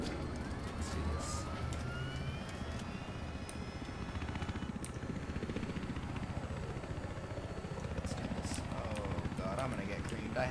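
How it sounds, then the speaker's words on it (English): A transport helicopter in Battlefield Hardline whirs steadily through dense game noise, its rotor drone continuous and fairly loud, mixed with passing engine and siren-like tones across the whole stretch. "Transport chopper."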